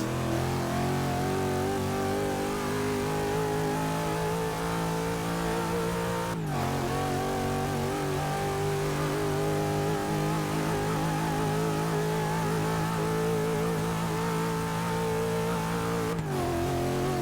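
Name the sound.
Pontiac Aztek engine accelerating in video game Forza 6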